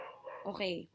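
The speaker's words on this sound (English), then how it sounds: "I'm sorry for the dogs." Dogs bark and yip in the background, a short burst of a few strained barks heard under someone speaking indoors.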